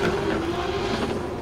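A Subaru BRZ drift car with a swapped 2JZ engine holds a loud, steady high-revving drone at a drift competition round, its strained engine note up close and constant, with tire noise beneath and no speech.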